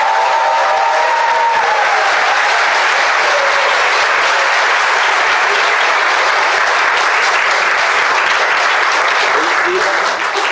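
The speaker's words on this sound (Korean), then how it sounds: "힘찬 박수로 환영합니다" Loud, sustained applause from a talk-show audience welcoming a guest, a thick wall of clapping that carries on evenly for about ten seconds, close and alone.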